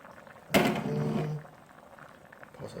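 Beef yukgaejang soup with taro and bracken boils in a pot, with a sudden loud burst of bubbling rumble lasting about a second before settling to a quieter simmer.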